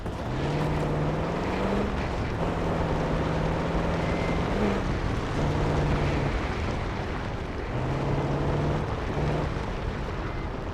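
A boat engine in the Call of Duty Black Ops 6 video game roars loud and close over a thick rush of water and waves. Its pitch repeatedly rises, falls and shifts as the throttle changes.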